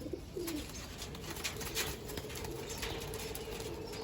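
Soft pigeon cooing sounds faintly through a steady hiss of background noise, with occasional fluttering.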